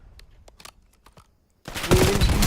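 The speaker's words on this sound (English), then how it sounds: "He sees the gunshots from the right." Gunfire in Call of Duty Black Ops 7 during a competitive esports match: a few faint scattered shots, then a sudden loud dense burst of automatic fire that fills the last second.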